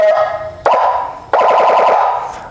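Add-on siren fitted to a modified Harley-Davidson Ultra Classic, loud and close, sounding in three short bursts that switch between a steady tone and a fast warbling wail, alone with no talk.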